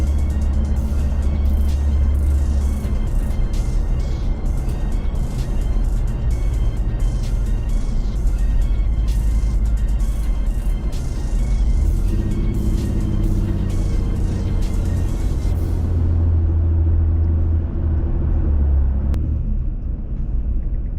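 A car cruises steadily along a road lined with trees on both sides and down the middle, its engine and tyre rumble loud and continuous, easing off near the end.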